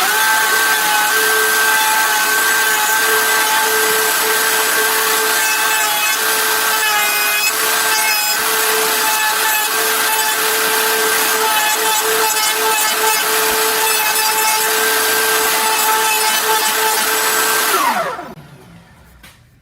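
A router fitted with a flush trim bit, its bearing riding a template, cuts the edge of a wooden serving tray with a steady loud high whine, then spins down and stops near the end.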